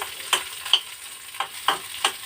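Chutney ingredients fry in a pan while a spoon scrapes and stirs in five sharp, evenly spaced strokes over a quiet, steady sizzle, heard close with no talking.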